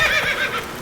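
Roach, the horse in The Witcher 3, lets out a single loud, close whinny lasting under a second, with a wavering high neigh and a faint rustle beneath it.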